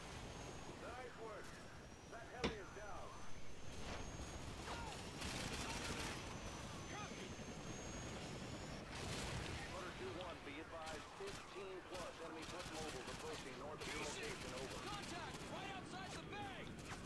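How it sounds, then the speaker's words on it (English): Distant, muffled gunfire pops and short bursts in a Call of Duty: Modern Warfare 2 battle, faint under continuous voices and a wash of water-like background noise, with one sharper shot standing out. "I keep shooting my own teammates."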